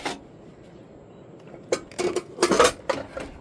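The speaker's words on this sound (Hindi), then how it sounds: "अभी बर्तन जल्दी से धो लेती हूँ।" Steel dishes, pots and utensils clatter and clink in quick bursts during washing in a home kitchen, close and sharp after a quiet stretch, with no talking.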